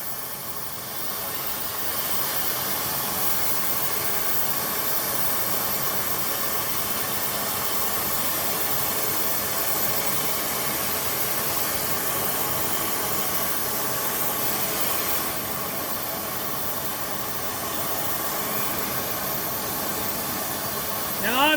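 A torch roars steadily at close range while heating a ball joint on a 2011 Subaru Legacy, a continuous hissing rush that holds for about twenty seconds and ends with a brief clatter.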